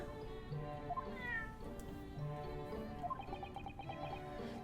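Wagahai, a cat in The Great Ace Attorney, meows several times in short, clear calls over a steady game music backdrop, with a drawn-out, rising mew partway through.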